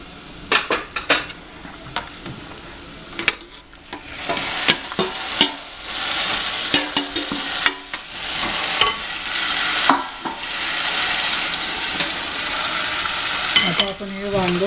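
Roasted eggplant tipped into fried onions in a pan and stirred, loud sizzling frying under repeated scraping and clinking of a spoon against the metal, close up with no talking.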